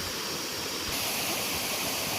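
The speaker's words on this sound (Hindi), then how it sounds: "ये यहाँ से झरना सब बहता हुआ" A waterfall in the Mainpat hills pouring straight down into a deep drop, giving a loud, continuous broadband roar that swells slightly partway through, with no voices over it.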